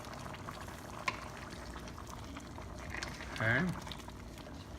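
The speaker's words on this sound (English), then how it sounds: "I'm gonna let it simmer for 1 more minute" Goat meat stew (kalderetang kambing) simmering in a pot, a soft steady bubbling with a brief clink, and someone briefly speaks over it.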